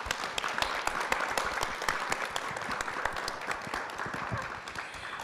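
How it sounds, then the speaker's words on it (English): An audience at an alumni festival panel gives the speakers a round of applause: many crisp, overlapping claps in a lively, sustained patter that holds fairly steady, heard from within the room. "I just need to give you guys a round of applause"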